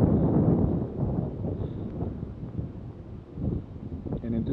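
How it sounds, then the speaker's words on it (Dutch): Strong wind gusting across the IJsselmeer on a cold day aboard a sailing boat underway from Medemblik to Hindeloopen, a steady loud roar with buffeting rumble against the microphone throughout. "En intussen waait het aardig op het IJsselmeer."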